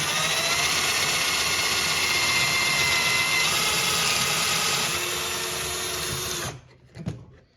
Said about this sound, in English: So you want to make sure you start your drill before you put it into these holes.